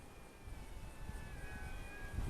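A KFPLANE KF605 F-35 style four-channel RC foam plane flying outdoors, its electric motor giving a steady high whine with thin drifting tones over constant wind-like rumble, alone without talk.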